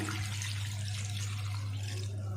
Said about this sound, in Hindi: ये पाए हमने इसमें डाल दिए हैं और इसमें डाल देंगे 3 लीटर पानी